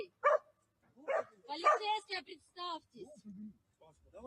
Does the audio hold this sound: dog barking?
yes